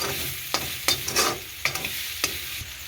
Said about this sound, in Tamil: சேர்த்து ஒருக்கா கிண்டி விடுவோம். அடி பிடிக்காமல் வடிவாக இருக்கா கிண்டி விடணும்.